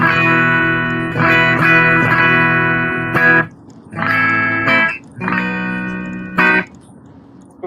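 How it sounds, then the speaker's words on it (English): A Fender Meteora electric guitar played through a 5150 amp rings out in loud, sustained chords, strummed in a few groups with short gaps and quick final stabs. "this is the 5150. It sounds like a Fender amp, right?"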